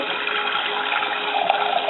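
Water runs steadily from a tap to be heated for a Pinot Grigio wine kit, a loud, continuous rushing gush with no pauses.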